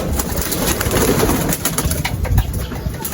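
Racing pigeons coo in a loft, soft rolling coos repeating close by over light background rustle, with no one talking.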